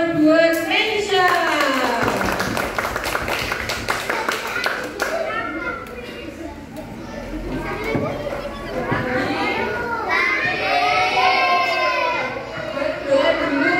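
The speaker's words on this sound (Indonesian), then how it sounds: "Tepuk tangan buat Meisha." A class of children claps for a classmate named Meisha, rapid rhythmic hand claps in the opening seconds followed by excited children's chatter and shouting, all close and fairly loud.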